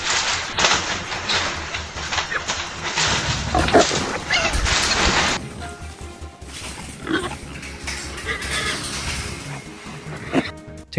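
A feral hog grunts and snorts in a loud, dense stretch of rough, throaty noise, with thumps and rustling mixed in as the animal moves close by.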